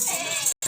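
Goats bleating at a livestock sale, a continuous nasal, wavering call that breaks off briefly near the end before resuming, close and fairly loud with no talking.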